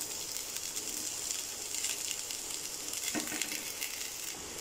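Vegetables sauté in a pan for fried rice, giving a steady quiet sizzle with scattered crackles and occasional soft stirring scrapes, alone with no voices.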